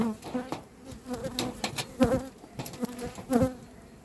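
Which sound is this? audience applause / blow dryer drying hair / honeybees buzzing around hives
honeybees buzzing around hives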